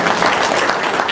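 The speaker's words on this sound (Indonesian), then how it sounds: "Tepuk tangan dong." An indoor audience breaks into brief, dense applause, many hands clapping at once close by for about a second.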